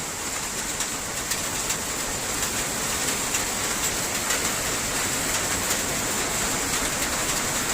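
Heavy rain in Japan pours down in a constant broadband hiss, heavy and unbroken, with faint scattered patters throughout.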